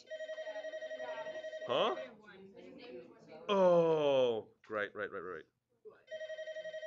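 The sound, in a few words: telephone ringing in classroom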